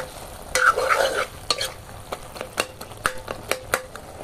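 A bottle gourd, pea and potato sabzi is stir-fried in a pan, with a spatula scraping and tapping in irregular strokes over a soft, low sizzle.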